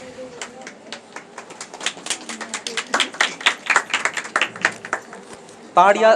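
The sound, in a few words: applause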